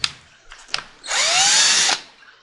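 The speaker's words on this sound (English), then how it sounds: "is take off the 4 screws." A power drill backs a screw out of a Pond Master model 700 pond pump. A few small clicks come first, then a loud, close whir lasting about a second that rises in pitch and cuts off abruptly.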